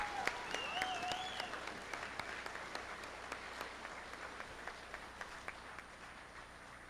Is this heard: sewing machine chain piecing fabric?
no